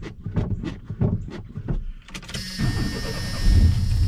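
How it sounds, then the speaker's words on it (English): A 1992 GMT400 pickup truck with a hard-starting problem cranks in a quick, rhythmic series of starter pulses, then catches and settles into a loud, rough running idle close by. "Truck's been kind of hard starting, so I'm gonna give it a few pumps of the pedal first"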